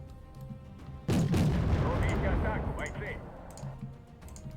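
Artillery firing in the war strategy game Wargame AirLand Battle: a sudden heavy boom lands about a second in, followed by a rumbling, crackling barrage that slowly fades, with a speaking voice over parts of it.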